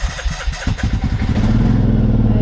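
A quad bike being ridden in a field: a close, loud engine chugs in rapid pulses, then revs up into a steady, rising drone with mechanical clatter, and no voices.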